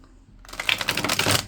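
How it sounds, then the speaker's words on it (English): After a quiet moment, tarot cards riffle in a quick burst of crisp, rapid flutters close by. "I'm just going to shuffle these cards here"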